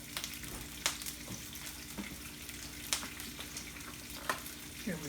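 Bush beans fry in a pan with a quiet, steady sizzle, broken every second or so by a sharp clack of a utensil against the pan, heard close with no talking.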